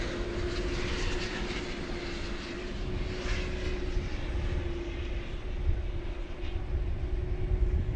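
An MD-11 jet taking off from a runway at DFW Airport, a sustained low engine roar with a steady tonal hum, heard from a distance and holding at an even level for the whole stretch.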